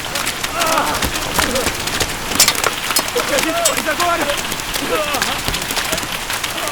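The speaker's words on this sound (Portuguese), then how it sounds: "Tá chovendo granizo!" Hail falls in a dense, loud patter of sharp ticks and impacts while people speak anxiously over it.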